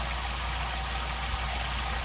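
Water runs steadily into a container being filled to wash fleece, a constant loud gushing hiss with no breaks and no voices.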